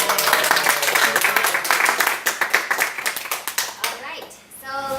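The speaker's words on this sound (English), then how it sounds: "Give her a round of applause." An audience at a mentoring workshop breaks into loud, dense applause that thins to scattered separate claps and dies away, with a voice speaking briefly as it ends.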